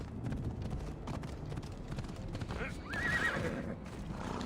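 A horse whinnies in Assassin's Creed Odyssey, a loud wavering neigh rising over steady hoof clip-clops and dense game ambience, with someone talking underneath.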